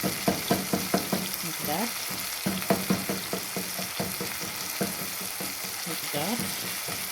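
Beef cubes sizzle in a frying pan while being smashed and stirred, with repeated sharp scraping and pressing strokes over a steady fry; a voice speaks briefly.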